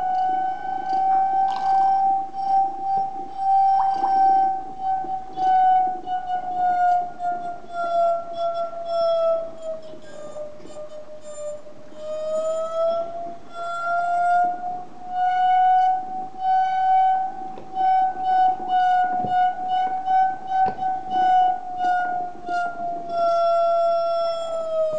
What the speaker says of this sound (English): as should be expected, we get a single tone out of that wine glass, but because we have attached it to the pump,